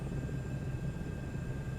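A helicopter flies in a flight simulator video game, giving off a steady low rotor and engine rumble that holds evenly throughout with no voices.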